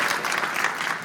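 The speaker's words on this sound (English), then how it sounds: "And yes, clap hands," A brief burst of applause from a science-fiction convention audience at a panel, many hands clapping densely and continuously in a large hall, heard alone with no talking over it.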